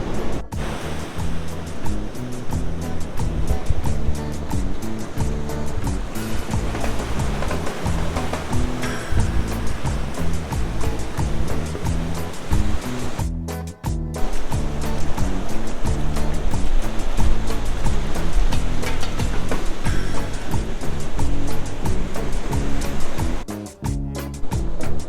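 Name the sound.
waves on the beach at Pacitan at sunset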